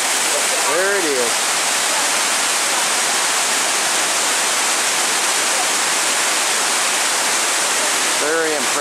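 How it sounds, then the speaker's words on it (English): Mingo Falls near Cherokee, North Carolina, on an icy day: a loud, steady roar of falling water fills the whole stretch without a break, with brief bird chirps at the start and the end. "Very impressive waterfall."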